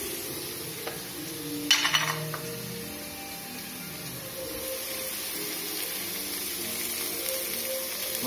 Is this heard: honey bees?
no